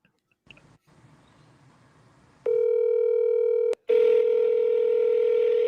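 Repeated ring tone of an incoming phone call going unanswered, a steady loud tone sounding twice with a brief gap between, after faint background noise.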